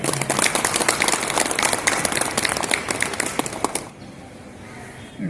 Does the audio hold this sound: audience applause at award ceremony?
yes